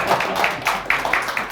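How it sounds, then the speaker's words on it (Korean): An audience at an economics lecture breaks into a short burst of scattered clapping, a soft patter of many hands heard briefly and at moderate level. "박수 한번 부탁드리겠습니다."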